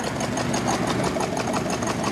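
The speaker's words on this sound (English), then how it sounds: "Definitely got an exhaust leak at the back there." An old 1929 Ford Model AA truck engine, a barn find, idles roughly up close, with a rapid, uneven ticking and puffing from a rear exhaust leak over a steady low rumble.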